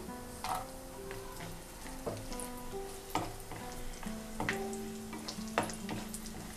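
Cashews and raisins frying in oil in a pan, a steady close sizzle with scattered sharp pops and occasional spoon scrapes, no talking.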